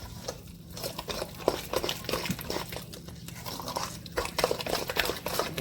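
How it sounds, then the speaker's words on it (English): Coleslaw ingredients are stirred together in a bowl, making a close, moist, crunchy churning broken by occasional light clinks of utensil against bowl, in a steady rhythm. "Next, we're going to mix all of this up together."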